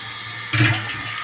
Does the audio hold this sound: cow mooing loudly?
no